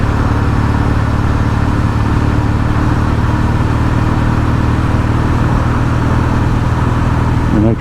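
A motorcycle or scooter engine runs steadily and loudly nearby with a constant low rumble and hum, and no voices are heard.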